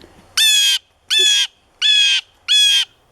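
A crow caws four times in a steady, evenly spaced series, each call loud, harsh and close, with a short quiet gap between calls and nothing else heard.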